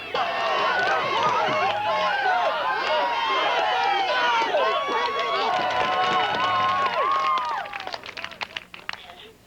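A large crowd of deaf people screaming at a rally for a deaf university president, a loud dense roar of many high shrieking voices that carries on for several seconds and then thins out toward the end.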